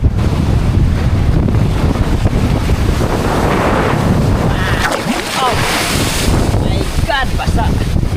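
Waves slap and wash against a small fishing boat at sea off Surigao, with heavy wind buffeting the microphone throughout and a few splashing bursts near the end.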